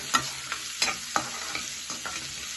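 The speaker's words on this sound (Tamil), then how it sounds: "சின்ன வெங்காயம் இருந்தால் போட்டுக்கோங்க. நல்லா வதக்கணும்." Small onions sautéing in a pan for kara kulambu, a soft sizzle punctuated by several quick scraping clicks of a spoon stirring, close and fairly quiet.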